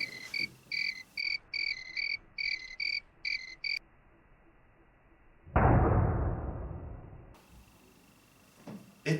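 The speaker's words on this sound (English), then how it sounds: "we're going to stop the cricket song" A recorded cricket song played from a loudspeaker: several regular bursts of high chirps that stop abruptly partway through, followed by quiet and then a brief broadband rush of noise.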